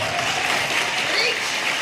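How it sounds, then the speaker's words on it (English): A large audience applauds and cheers, a dense and steady wash of clapping that holds at an even loudness throughout. "They're all cheering."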